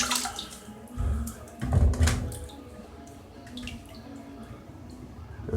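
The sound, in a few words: filter sloshed in water and wrung out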